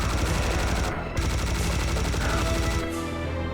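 Rapid bursts of automatic gunfire rattle in close succession in the video game Serious Sam, pausing briefly before resuming, with synthetic, game-like punch and no voices.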